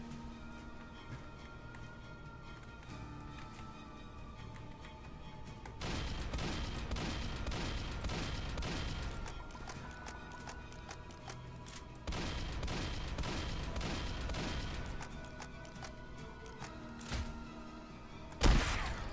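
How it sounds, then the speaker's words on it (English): Gunfire and a blast from shooting an explosive barrel in the video game Dead Rails, dense rapid bursts of loud shots in two long stretches with a sharp final boom. "I'm just shooting it and I blow it up."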